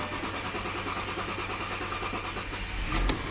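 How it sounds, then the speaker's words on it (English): Audi A6 engine with a freshly replaced fuel filter cranking steadily with a rhythmic starter chug, then catching with a louder surge near the end; close and alone, no talking. "You're gonna want to start the car. It's gonna take a little extra for it to start now because there's no fuel in it"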